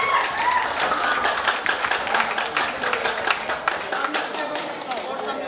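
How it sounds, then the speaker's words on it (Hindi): Enthusiastic applause for a child named Prince at a Louis Braille Jayanti ceremony, many hands clapping in a lively, uneven patter, with voices and a speaker talking over it. "प्रिंस के लिए एक बार जोरदार तालियां बजाइए"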